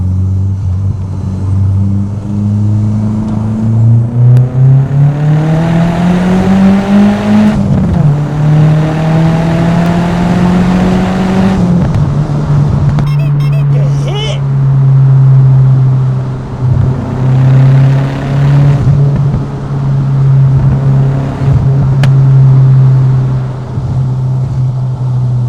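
A VW Golf MK2 GTI fitted with a swapped 1.8 turbo engine from an Audi S3 revs loud and close, its drone climbing through several rising pulls before settling into a steady, strong hum.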